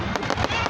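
Fireworks bursting in a rapid string of loud explosive pops and crackles, close and overlapping over a brief moment, with no voices.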